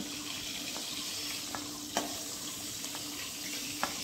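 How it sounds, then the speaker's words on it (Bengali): Okra frying and being stirred in oil in a pan for a vegetarian okra-poppy-seed dish, with a steady close sizzle broken by a few light scraping stir clicks. "লবণ দেওয়ার পর নাড়িয়ে চাড়িয়ে মিশিয়ে আরও 2 মিনিট ভালোভাবে ভেজে নেব।"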